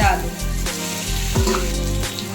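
Fried potatoes drop into a sizzling mixture of ginger, coriander and chilli paste in a pan, giving a loud, steady frying hiss with stirring scrapes through the whole stretch.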